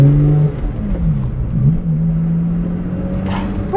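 A Lotus Exige V6 sports car engine accelerates in freezing cold weather, a loud close tonal drone rising in pitch, dipping briefly, then climbing steadily again.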